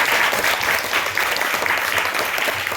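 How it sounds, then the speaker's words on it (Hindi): A classroom of eighth-grade children claps together during a maths lesson, a dense, even burst of hand clapping lasting the whole clip with no talking. "इनके लिए ताली बजाइए जरा।"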